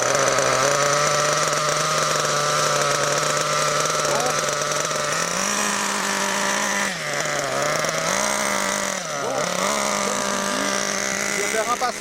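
Nitro-fuelled RC car engine with stock tuning starts and screams at full throttle, a loud, continuous high-pitched buzz with a few brief dips and rises in pitch as the throttle wavers.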